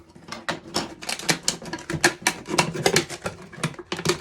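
A razor blade cuts the bottom off a plastic bottle, making a rapid run of close, crisp clicking and crackling snips in an uneven rhythm with no talking.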